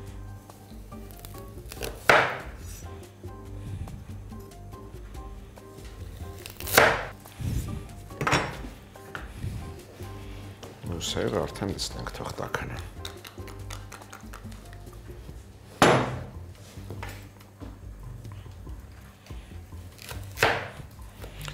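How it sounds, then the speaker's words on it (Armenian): Carrots are chopped very finely with a knife on a cutting board, giving several sharp, close knocks spaced irregularly over a quiet kitchen background, while a voice speaks briefly. "Գազարը շատ մանր կտրատում ենք եւ տապակում"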